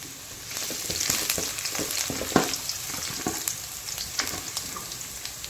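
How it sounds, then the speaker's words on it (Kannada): Finely chopped garlic and ginger lightly frying in a pan, a close, steady sizzle with crackling pops and scraping stirs throughout, no voices. "ಈಗ ಇದೊಂದು ಸ್ವಲ್ಪ ಲೈಟಾಗಿ ಫ್ರೈ ಮಾಡ್ಕೋಬೇಕು"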